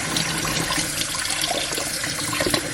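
Tap water runs into a kitchen sink while food is rinsed under it, a steady close splashing with small irregular spatters and no talking.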